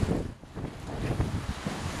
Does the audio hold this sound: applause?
no